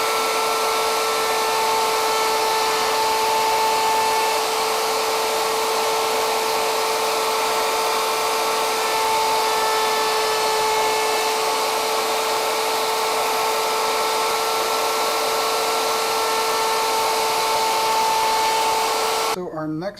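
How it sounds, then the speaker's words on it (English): A high-pitched router on a router table cutting a 1/8 inch chamfer whines steadily for a long stretch with a constant tonal hum and airy rush, cutting off abruptly at the end. "a nice little 1/8 inch chamfer, and I'm going to do that here on the router table"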